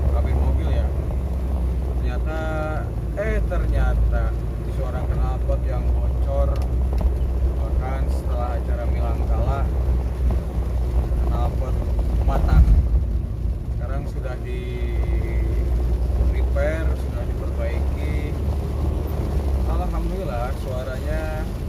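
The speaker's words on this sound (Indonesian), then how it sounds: "Itu suara mesin mobil tuh, suara mobil tuh masuk ke dalam kabin mobil ya." Low, steady diesel engine rumble fills the enclosed cabin of a Daihatsu Taft Diesel Hiline 4x4, with wind and road noise throughout and a voice talking over it.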